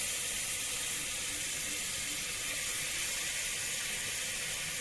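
Mutton pieces being stirred with turmeric in a hot pan for Chettinad mutton sukka, a steady loud sizzling hiss running unbroken throughout with no voices.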